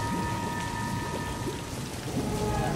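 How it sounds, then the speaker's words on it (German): Heavy rain pours steadily through a thunderstorm in a Doctor Who video game, with rumbling thunder underneath, loud and continuous throughout. "Ich habe noch nie in meinem Leben einen solchen Sturm gesehen."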